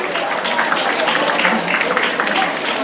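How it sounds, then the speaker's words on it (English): An audience at a 2019 Shanghai association evening gala applauds Hazel Lee as she is called to the stage, producing a dense, even wash of clapping heard throughout with voices talking over it. "if you can give her a round of applause, everyone"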